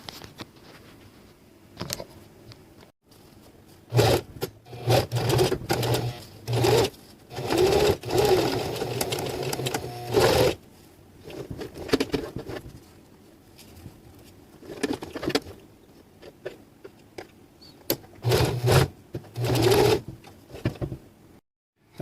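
A sewing machine stitching a fabric drawstring pouch runs in repeated bursts of rapid stitching, stopping and starting with short pauses between, close and fairly loud.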